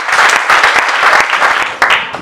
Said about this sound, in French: Sous vos acclamations, nous le recevons.